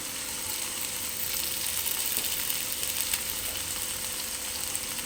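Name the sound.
curry leaves sizzling in hot oil for semiya upma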